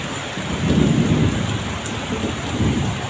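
Heavy rain pours steadily on a rainy Saturday, with low thunder rumbling beneath the downpour throughout; no voices.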